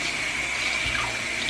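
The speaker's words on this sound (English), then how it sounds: "This doesn't look like it touched soil ever, so that's just a quick rinse." Tap water runs in a steady, loud, close rush over a Burle Marx plant during a quick rinse, with no one speaking.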